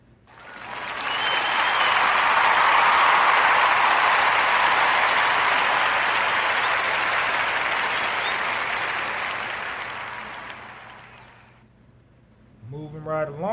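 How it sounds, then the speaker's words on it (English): Sustained audience applause for a dessert business called Southern Girls Desserts, a dense wash of many hands clapping that swells in, holds loud for about ten seconds, then fades away before a short musical tone begins. "give our sisters a warm narrative podcast round of applause for Southern Girls Desserts."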